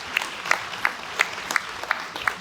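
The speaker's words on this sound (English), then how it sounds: "Give him a round of applause" Scattered, sparse clapping from a convocation audience at USC Upstate, a few distinct claps spaced through a fairly quiet hall rather than a full ovation.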